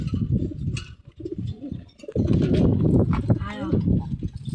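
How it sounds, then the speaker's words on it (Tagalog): Pigeons cooing at a backyard coop, soft repeated low coos mixed with other farm animal noises while people talk nearby throughout. "Kasi may pigeon na ayaw pagalaw yung pigeon."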